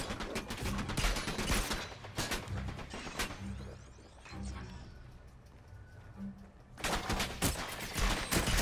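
Gunfire from the VR shooter Farpoint comes in dense bursts at the start and end, with a quieter stretch in between. Someone talks over the shooting.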